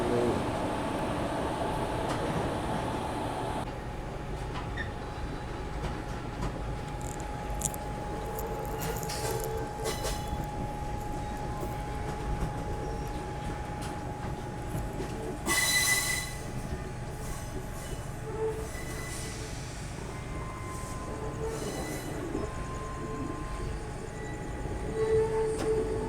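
A train pulls out of Cherlapalli railway station near Hyderabad on a rainy day, a steady low rumble of rolling wagons with occasional brighter rattles and clanks, under faint background voices.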